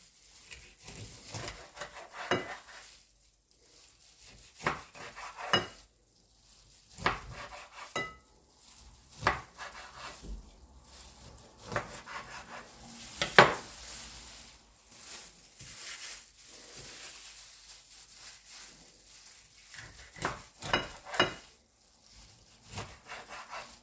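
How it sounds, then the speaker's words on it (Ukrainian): A knife chops cleaned mackerel into pieces on a board, with a series of irregular, close, crisp cuts and knocks. "І тепер буду нарізати на такі шматочки"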